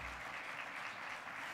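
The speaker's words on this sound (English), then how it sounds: "Applauding is good." Audience applause fills a gala hall at the 2017 LULAC National Legislative Conference, a dense, steady clatter of many hands clapping at once for the whole stretch, with no voices standing out.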